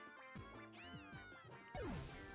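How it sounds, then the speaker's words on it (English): A synthesized cat meow from the game Pokémon Moon with a rising, wavering pitch, surrounded by electronic game music tones and a crash-like burst near the end. "That wasn't a growl at all, that was a meow"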